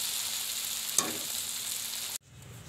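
Bhindi masala, okra cooked with onion, sizzles steadily in a pan as a close, even hiss with a single sharp clink partway through, then cuts off abruptly to a quieter background.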